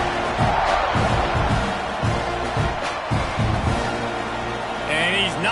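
Stadium crowd in a football video game buzzing steadily after a score, a dense roar of voices under continuous commentary.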